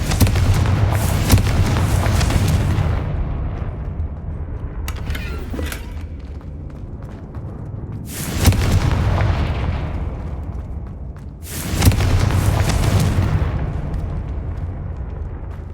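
Confringo fire-blast spell cast in the Hogwarts Legacy video game: three loud, booming explosive bursts, spaced several seconds apart, each followed by a fading rumble.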